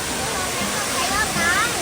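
Heavy water pours down the Sai Yok Noi waterfall in Kanchanaburi, a loud, unbroken roar. A voice speaks over the rushing flow.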